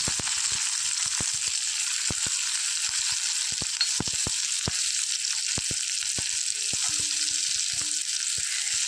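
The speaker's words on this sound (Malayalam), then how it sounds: "ഒന്ന് മൂത്ത് വരട്ടെ ചെറിയുള്ളി മൂത്ത് വരാൻ തുടങ്ങിയിട്ടുണ്ട്" Chopped shallots fry in ghee or coconut oil for kanji, giving a loud continuous crackling sizzle with scattered pops and stirring taps throughout, close up and with no talking.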